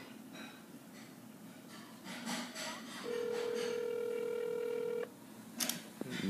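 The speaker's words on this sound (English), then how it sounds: "Put this on speaker. And we see that ringing." A phone ringing on speaker during an incoming Google Voice call, a steady electronic tone lasting about two seconds, loud and close after some softer background noise and a brief breath.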